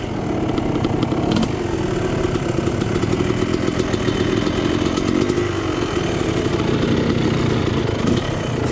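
Yamaha YZ two-stroke dirt bike engine running on race gas, a loud, continuous, raspy buzz that holds steady throughout at close range.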